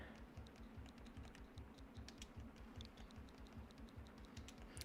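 Fast, rhythmic clicking of keys on a computer keyboard as a code is typed in, with steady keystrokes heard close and fairly quiet, and no talking.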